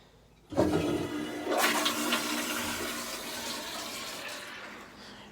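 A hotel room toilet flushes with a sudden loud rush of water, followed by a steady, gradually fading gurgle as the bowl refills, heard close by with no talking.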